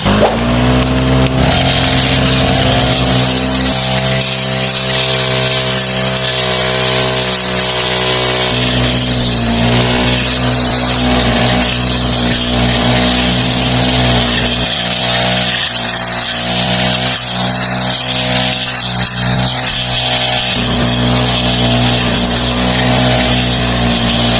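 A small Honda gasoline grass cutter engine drones steadily throughout, with a buzzing, harmonic-rich hum at constant speed and no talking.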